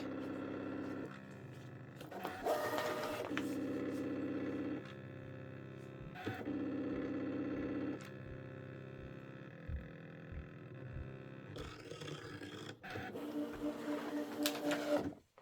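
A Brother embroidery machine runs steadily while cutting applique fabric pieces, a continuous mechanical hum with rhythmic stitching pulses and a few louder clattering bursts, no talking.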